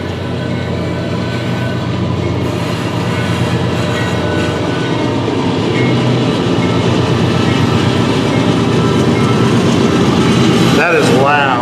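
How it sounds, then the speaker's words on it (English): A train rolls past on a railroad track about fifty feet from a house, a loud continuous rumble with rhythmic wheel clatter, ending in a brief rising horn-like squeal near the close. "This house is like 50 feet from that railroad track."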